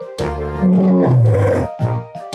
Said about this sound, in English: She heard a loud, low roar.